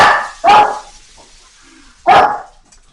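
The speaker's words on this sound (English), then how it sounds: "So much so that it starts my dogs barking." Dogs bark indoors: two loud, sharp barks sound about a second and a half apart, with near silence between them.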